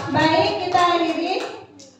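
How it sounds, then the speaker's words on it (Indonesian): Children clapping their hands together in a classroom setting, a brief burst of rhythmic clapping mixed with young voices, lasting under two seconds before fading. "tepuk tangan teman-teman"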